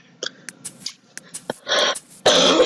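Someone coughs close to the microphone in a series of short bursts and throat sounds, ending in a couple of louder, harsher hacks; no talking.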